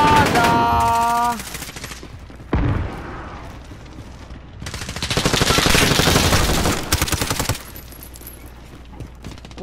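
Rapid machine gun bursts and heavy gunfire in a video game, loud and sustained through much of the stretch, with short gaps between volleys and a player voice talking over parts of it.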